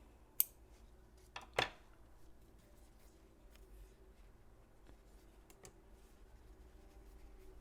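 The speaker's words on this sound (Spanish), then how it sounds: "y cortamos el hilo." Scissors snipping crochet yarn, a couple of sharp, close cuts followed by faint handling noises in a quiet room.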